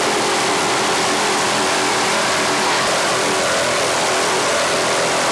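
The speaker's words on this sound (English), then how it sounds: "There you really get an idea of the noise and the power behind these Ross motors." Racing boats' Ross engines give a loud, steady roar that fills the whole stretch, powerful and unbroken, with a rough high-pitched snarl over a deep rumble.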